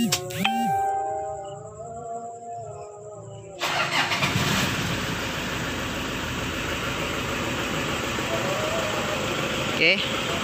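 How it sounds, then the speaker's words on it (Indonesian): A 2009 Toyota Innova diesel with an automatic transmission and a sputtering fault turns over after a quiet stretch, then settles into a steady, noisy idle. A voice is heard near the start. "Nah, di sini kita coba hidupkan dulu untuk mesinnya ya."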